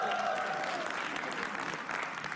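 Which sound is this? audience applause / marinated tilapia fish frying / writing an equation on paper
audience applause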